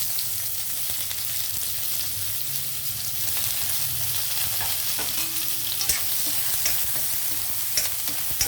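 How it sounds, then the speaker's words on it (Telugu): Sliced onions frying in hot oil left from frying dried fish, giving a continuous, even sizzle close by with faint scraping from occasional stirring. "ఇందులో ఇప్పుడు ఇదే ఆయిల్లో మనం ఉల్లిపాయలు వేసి వేగనిద్దామండి"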